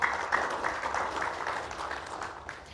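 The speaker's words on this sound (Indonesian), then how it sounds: "Tepuk tangan yang meriah." An audience at a formal judicial talk show applauds to welcome the deputy chairman of Indonesia's Corruption Eradication Commission, a dense, steady wash of many hands clapping at moderate loudness that tapers slightly toward the end.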